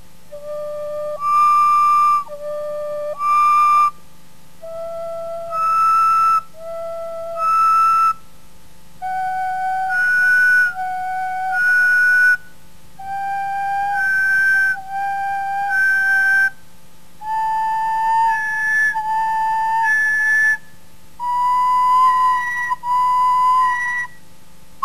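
A penny whistle plays clear, separate notes in octave pairs starting from low D, each low note answered by its higher octave, climbing step by step against a faint steady hum.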